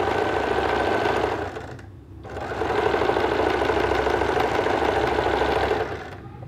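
Sewing machine stitching a seam on shorts, a loud rapid mechanical whir running in two bursts separated by a brief pause.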